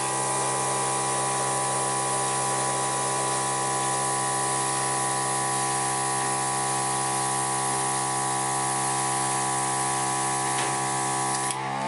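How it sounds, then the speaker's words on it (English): Airbrush spraying acrylic paint onto a canvas, a steady loud hiss of compressed air with a constant mechanical hum from the compressor running unbroken throughout, no voices. "I can do airbrushing with both hands even though I'm right-handed"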